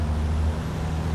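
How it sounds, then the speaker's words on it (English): Racing truck air brakes in FIA European Truck Racing Championship, driven with short taps: a brief hiss of released air over a low, steady engine hum. "So braking like that in little baby taps"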